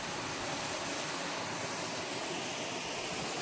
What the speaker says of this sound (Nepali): पुरा मोर्सीको झरना